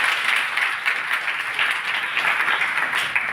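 Dense, sustained applause fills a university auditorium during a two-day national conference, many hands clapping in a busy, even wash with small surges throughout.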